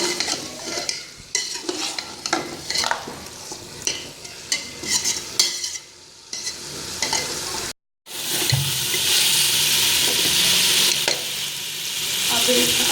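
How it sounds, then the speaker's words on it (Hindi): Mutton and potatoes for degi aloo gosht are being fried in a pot, with repeated close stirring scrapes over a sizzle, then a brief pause followed by a loud, continuous hissing sizzle. "इसको हम 5-10 मिनट ऐसे भूनते रहेंगे।"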